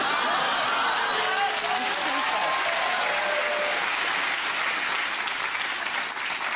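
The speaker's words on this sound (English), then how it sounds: "They're still clapping" Studio audience on a British TV chat show claps steadily, a dense, loud wash of applause that runs the whole stretch with a little laughter mixed in.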